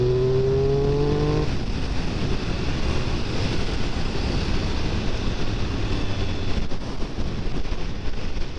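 A 2022 Triumph Speed Triple 1200 RR motorcycle is ridden at speed, its engine a loud steady roar buried in heavy wind rush, with a brief rising engine tone at the start.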